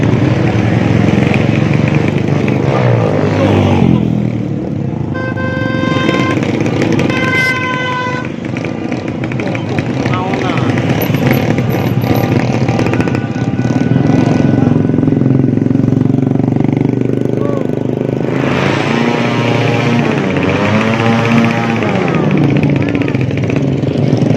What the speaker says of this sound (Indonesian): Mobil, motor.